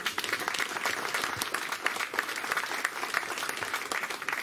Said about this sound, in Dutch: Graag een applaus ervoor.